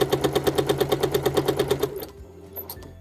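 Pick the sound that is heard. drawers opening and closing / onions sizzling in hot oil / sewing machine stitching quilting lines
sewing machine stitching quilting lines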